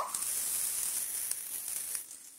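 Fresh green peas frying in a pan with cashews and raisins, a steady bright hiss and sizzle with faint pops throughout, fading slightly at the end.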